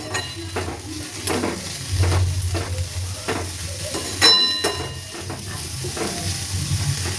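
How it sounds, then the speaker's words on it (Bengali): Grated coconut and powdered sugar being stirred in a frying pan, a steady sizzle under repeated scraping strokes of a utensil against the pan, close and fairly loud, with no talking. "এই যে নারকেলটা আমি দিয়ে দিয়েছি, এবার এর মধ্যে আমি পরিমাণ চিনি দিয়ে দেবো।"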